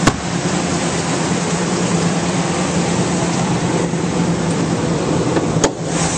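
Steady, even running of a V10 engine in a 2000 Ford F-250 Super Duty, heard close up with the hood open; a smooth continuous hum with a constant level, no voices.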